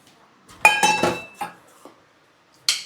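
Dishes being washed at home: a few sharp clinks and clatters of pots, plates and cutlery in quick clusters, separated by near silence, with a final bright clink at the end.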